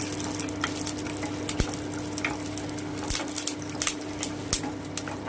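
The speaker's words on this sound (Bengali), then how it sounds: "আমি একটু নেড়ে নিচ্ছি।" Cashews, almonds and melon seeds stirred in hot oil for a vegetarian paneer dish, a steady close sizzle with intermittent scraping and clinks of the spoon against the pan, no voices.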